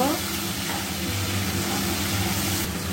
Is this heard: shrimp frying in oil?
yes